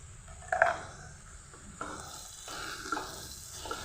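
Cabbage with fish head, sugar and salt is stirred in a pan, a soft frying sizzle under scraping spatula strokes with a few clinks of utensil on metal, fairly quiet and close.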